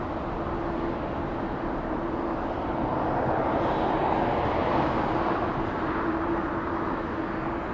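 Airbus A380 airliner flying near LAX airport, heard as a steady, broad engine roar with a constant low tone that swells slightly in the middle, continuous and fairly loud, with no voices.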